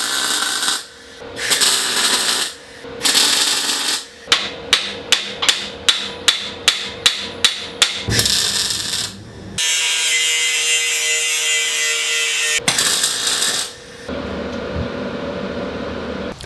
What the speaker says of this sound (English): But now I'm ready to tack a couple of key spots.